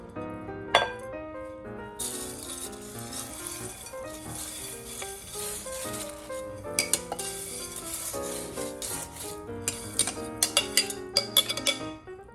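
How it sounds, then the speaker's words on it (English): Ramen goes into a bowl amid bright clinks of dishes and cutlery, scattered close taps and chimes over a soft tonal background, getting busier toward the end. "Next, we will add our ramen."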